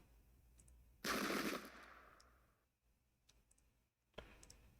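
Arquebusiers fire a volley in the Pike and Shot strategy game, Battle of Fornovo 1495: one loud crackling burst of gunfire fading over a second or so, then quiet with faint clicks and a second, smaller report near the end.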